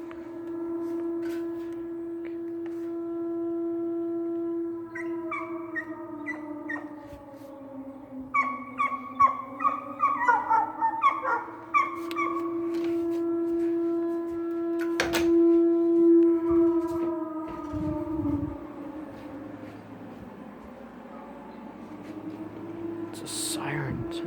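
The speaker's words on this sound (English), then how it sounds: "It's a siren." A rising and falling siren-like wail of unknown origin drones on with a strong steady tone, overlaid by wavering higher harmonics that warble and pulse midway before settling back into the long eerie moan.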